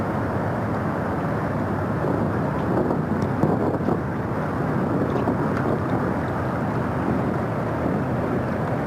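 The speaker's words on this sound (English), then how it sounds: "Picking up some wind" Wind rushes steadily across the microphone while sailing a Hobie on a lagoon at Berkeley's Aquatic Park, a broad, constant roar with faint water and gusting texture and no talk.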